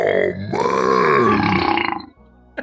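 A long, loud, deep burp right after drinking Dr Pepper during a burping contest, rumbling for about a second and a half before trailing off, followed by a brief vocal noise.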